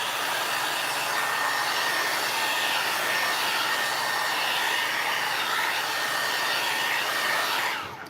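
A hair dryer blows steadily on decoupage paper on a book, a loud continuous whooshing whir that cuts off near the end, with no talking.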